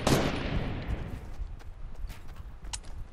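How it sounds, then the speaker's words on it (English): Gunfire in a video game: a loud burst of shots at the start fades into a dense, noisy rattle of more distant firing and clatter for the rest of the moment, with no talking. "They're shooting!"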